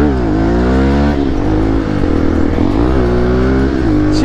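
A KTM RC200 and an Xpulse 200 motorcycle rev hard at a race start, giving a loud, close, continuous engine roar with rising and falling pitch.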